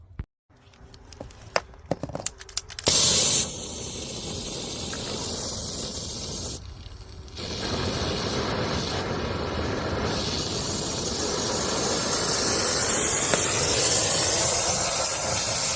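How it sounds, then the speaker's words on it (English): A brazing torch works on HVAC line valves while nitrogen flows through the lines. A loud, steady hiss runs almost throughout after a few sharp clicks and a brief dip at the start. "Got my nitro flowing. Let's braze these in."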